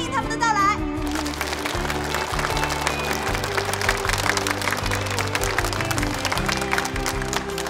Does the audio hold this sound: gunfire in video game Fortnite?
no